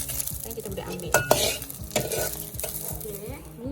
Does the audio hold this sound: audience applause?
no